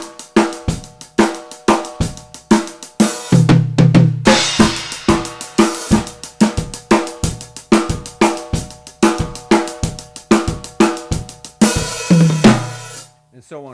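Drum kit playing a fast dancehall groove in an Afro-Latin-Caribbean style, with steady kick, snare accents and hi-hat strokes in a repeating pattern, loud and close, with a couple of busier fills along the way.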